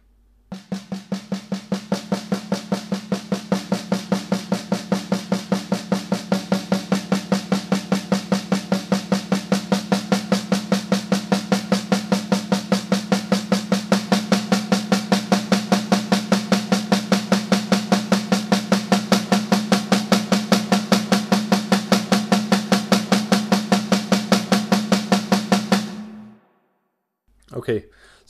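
A rapid, unbroken stream of identical drum samples in DrumGizmo, demonstrating a mechanical walking-upstairs effect, repeats in fast, even succession for about 25 seconds, then cuts off abruptly, with no voices.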